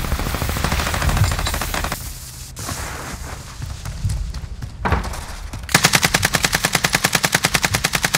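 Rapid machine-gun fire in a King Kong vs Godzilla video game, loud continuous bursts, with an evenly pulsing stream of shots at the end.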